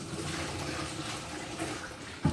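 Leftover rinse water from separating strawberry seeds is poured out of a bowl down a sink drain, giving a steady close splashing rush for a couple of seconds with a louder slosh at the end.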